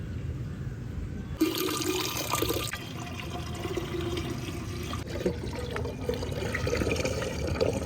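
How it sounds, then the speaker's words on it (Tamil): Water pours steadily into a jar of cut fruits and vegetables, including sweet lime and orange, a continuous loud splashing gush close by with no talk. "இப்போ இந்த ஜாடியில தண்ணியை ஊத்திட்டு நம்ம கட் பண்ணி வச்சிருக்க எல்லா ஃப்ரூட்ஸ் வெஜிடபிள் போட்டு ஊற வச்சிடலாம்."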